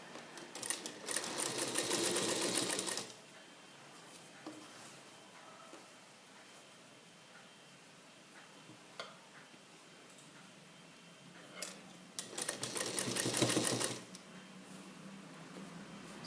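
A sewing machine stitches a garment sleeve at the shoulder joint in two clear loud bursts, one near the start and one near the end, with a quiet stretch between them.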